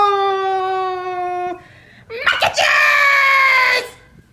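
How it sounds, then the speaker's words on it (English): A loud, shrill screaming voice bursts out for over a second in a Barney error parody, after a steady synthetic-sounding vocal tone and a short pause. "You don't have to scream at him"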